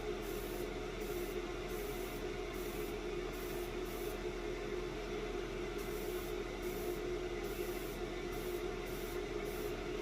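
A steady, hissing spray as a Cerakote coat goes onto a BKS paintball marker receiver, running at an even level throughout with faint rhythmic ticks layered on top, no speech.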